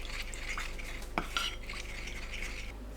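Utensils clinking and scraping in a bowl as a Korean seasoning sauce of garlic, chili powder, soy sauce, mirin, sesame oil and corn syrup is stirred, with a couple of sharper taps, close and fairly quiet.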